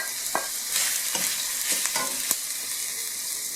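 Cabbage, red pepper, carrot and beans stir-fried in hot oil give a steady close sizzle, broken by scattered scraping and clattering stirring strokes.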